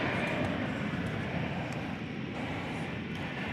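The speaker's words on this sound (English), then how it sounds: "Another American Airlines Airbus A320 is off to Omaha now." An American Airlines Airbus A320 takes off at DFW Airport, its jet engines a broad continuous roar heard from a distance, fairly loud and steady over a few seconds.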